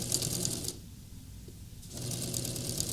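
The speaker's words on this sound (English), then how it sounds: "And I'm just stitching straight into my crease, because I think that's a really good guideline." Sewing machine stitching the waistband of a Christmas half apron, a steady fast mechanical whir running in two bursts with a brief quieter pause between them, close and alone.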